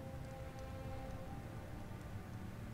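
Steady rain falls in the Skyrim video game as a soft, continuous hiss of drops. It stays faint and even throughout, with no talking.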